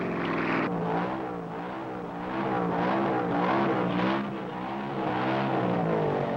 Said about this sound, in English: On the starting line, a Roadster warms up.